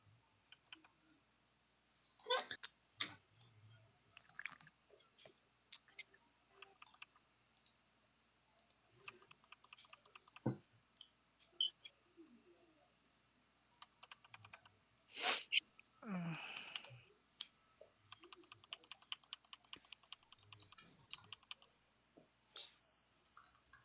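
Quiet, scattered clicking of computer keys, typed slowly in short irregular bursts with pauses in between, with faint background noises and a few soft voices.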